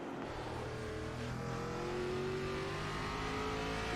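Race cars on a road course at Charlotte sweep through a chicane, engines droning and rising steadily in pitch as they accelerate, a continuous loud roar with no voices.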